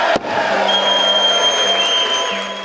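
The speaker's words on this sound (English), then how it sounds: "And you hear the applause on the floor" Sustained applause and cheering fill the House floor after a bill passes on a razor-thin vote, a dense wash of clapping that stays loud and steady throughout with a brief dip near the start.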